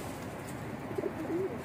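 Pigeons on a rooftop coo softly in short low bursts near the end, faint against a steady background hiss.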